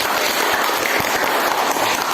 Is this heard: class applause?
yes